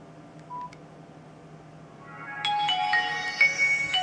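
A Nokia 7390 phone powering on plays its startup sound: a single faint beep, then a bright synthesized tone melody of rising and falling notes that swells up close and clear.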